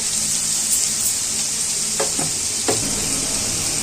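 Cauliflower masala with turmeric, ginger and spices sizzles steadily in a pan, with a few soft scrapes of a spoon stirring it partway through; no voices.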